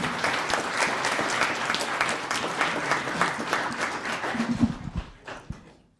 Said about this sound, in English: let's get started with a round of applause